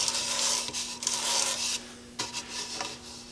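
Wooden bowl spinning on a lathe at 900 RPM, giving a constant low hum under repeated soft rubbing and scraping bursts as fingers press inside the turning wood, fairly quiet.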